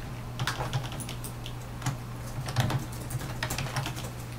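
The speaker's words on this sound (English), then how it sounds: "Listen to all of Nerd Talk typing at once." Several people type on computer keyboards at once, producing a fast, scattered clatter of key taps over a low background hum, fairly faint and with no talk.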